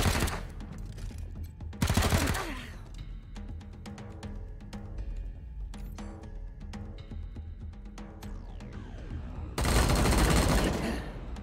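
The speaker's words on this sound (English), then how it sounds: "That's perfectly fine that you're shooting at" Gunfire rings out at a turret in the Wasteland 3 video game, with two loud sustained bursts at the start and end and scattered sharper shots and game effects in between, close and prominent.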